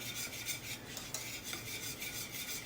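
Thickening butterscotch pie filling is stirred in a pot, a steady, close scraping and rubbing that carries on without a break and with no talking.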